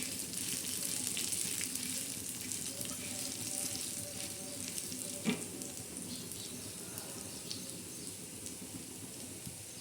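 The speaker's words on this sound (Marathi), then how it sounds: "खडा मसाला आता हे आपण चांगलं असं असं भाजून घेणार आहोत" Whole spices such as bay leaf roasting in a pan, a steady soft sizzle and crackle with occasional stirring scrapes, faint and close, no talking.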